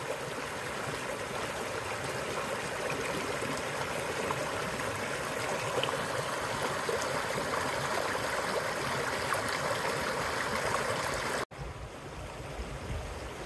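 Creek water flows steadily and loudly along a wilderness trail near Reno, a continuous close rushing burble that holds constant before cutting off abruptly and resuming.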